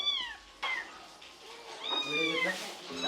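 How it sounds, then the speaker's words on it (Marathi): A cat on a mango farm in Konkan meows several times in close, loud, drawn-out calls, with a voice speaking alongside. "शेतीचं रक्षण उंदरांपासून ही मांजरं करतात"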